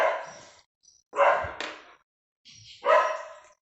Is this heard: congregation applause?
no